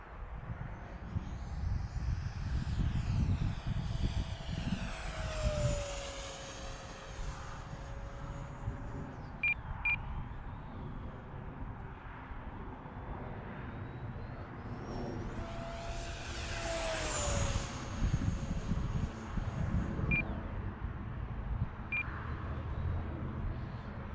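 An EDF model jet aircraft makes a full speed pass, its steady ducted-fan whine rising and falling as it sweeps by twice over a constant low rumble, with a few faint beeps.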